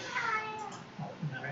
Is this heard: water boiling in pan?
no